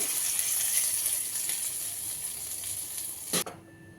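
Chana dal and urad dal tempering crackle in hot oil, a dense, steady sizzle with faint stirring scrapes that cuts off abruptly just before the end.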